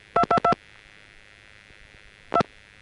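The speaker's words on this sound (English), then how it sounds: "This time I'm dialing an invalid local code." DTMF touch tones dial an invalid local code: three crisp beeps in quick succession, a pause of nearly two seconds, then one more beep, with a faint line hum underneath.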